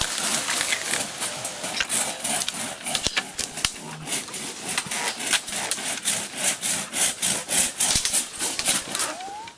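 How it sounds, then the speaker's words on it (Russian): A hand saw cuts through a tree outdoors, the rhythmic back-and-forth rasping strokes loud and close, growing more regular and pulsing toward the end. "Пилите его, вот этот. Пили, пока, пили."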